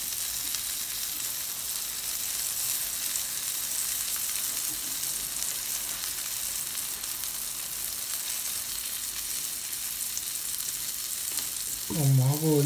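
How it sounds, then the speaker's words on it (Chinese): Parasol mushrooms sizzle on an electric griddle as a steady, even frying hiss at moderate loudness, with a brief clatter of handling near the end. "这电饼铛的好处就是温度是可控的，怎么煎炸都不会糊"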